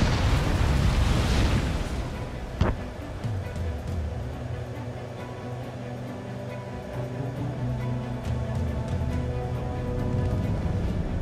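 Missile launches and explosions roar in the combat flight game Ace Combat 7, a loud rushing blast fading into a sustained engine drone with a sharp impact crack, heard under game audio.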